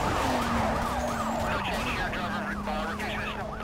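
Police car sirens wailing in Need for Speed: Most Wanted (2005), rising and falling rapidly over engine noise, loud and continuous.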